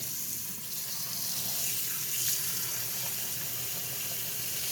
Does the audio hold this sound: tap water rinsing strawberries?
yes